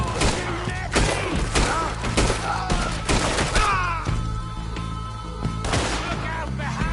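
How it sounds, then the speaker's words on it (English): Gunfire in a PS4 video game comes as a dense, loud fusillade of rapid shots and thuds, cracking over a continuous bed of game noise, with voices mixed in throughout. "Why are they all shooting at me?"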